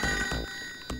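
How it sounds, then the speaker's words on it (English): A telephone ringing, with short bursts of electronic trilling tones that repeat in a quick pulsing pattern, moderately loud with nothing else over it. "You hear a phone?"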